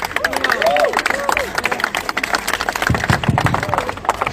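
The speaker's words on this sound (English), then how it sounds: "Yeah, if you want to clap, clap." A crowd of people at a testimonial event claps in broken, uneven bursts, with chatter and voices mixed in among the applause.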